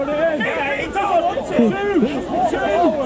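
Spectators at an amateur rugby match shout and call out from the sidelines, a busy babble of overlapping voices with raised yells throughout.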